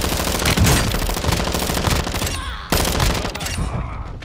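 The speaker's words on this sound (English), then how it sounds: "I'm putting suppressive fire into some of them" Sustained automatic gunfire in a video game firefight hammers on in dense, loud rapid bursts, briefly thinning before another close, heavy volley resumes.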